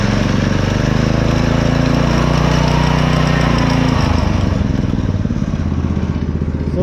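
A go-kart engine fitted with a torque converter runs close by, a loud, steady, rattling chug throughout the whole stretch.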